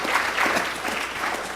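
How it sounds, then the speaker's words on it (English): Audience applause after three presenters at a clinical leadership summit on diabetes care: a short, steady burst of many hands clapping, moderately loud and even throughout, with no voices over it. "Can we all give them another round of applause"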